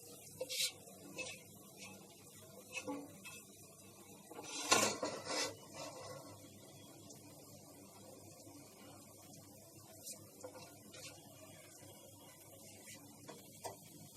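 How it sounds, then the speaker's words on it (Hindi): Whole spices crackle and pop in hot oil for Mughlai chicken, heard as scattered faint sizzling ticks with one louder burst of sputtering midway, close by in a home kitchen. "वैसे तड़कने लगे हैं मसाले, आप देखिए"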